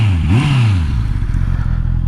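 A 2021 Honda CBR650R motorcycle revs hard through its underslung exhaust, the engine note swooping up and falling back before settling into a rough, throbbing idle, loud and close with no talking.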